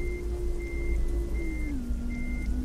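Steady electronic reversing beeps from a truck in American Truck Simulator, a repeating tone over a low engine idle that drops slightly in pitch partway through.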